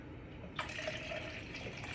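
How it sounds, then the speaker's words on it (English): Water poured into a plastic shaker cup while mixing a Watermelon Berry Xcelerate drink, a short close stream starting abruptly and running steadily with a light trickling sheen. "This is a little light, so we'll put a little more water."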